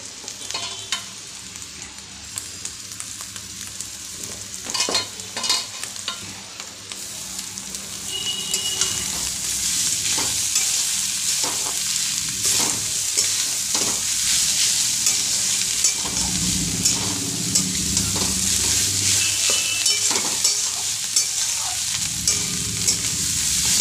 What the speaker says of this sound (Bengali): কিছুক্ষণ ভাজতে থাকবে।